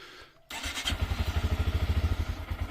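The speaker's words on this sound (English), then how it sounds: "Start the engine up." A Honda Grom motorcycle engine cranks and fires up after an oil change, settling into a loud, close, steady pulsing idle with a rapid even putter and no talk.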